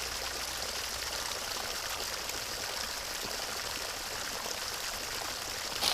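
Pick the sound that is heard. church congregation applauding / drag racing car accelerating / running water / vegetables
running water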